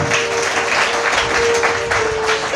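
A church congregation claps loudly and steadily in a dense, continuous burst of applause that fills the room.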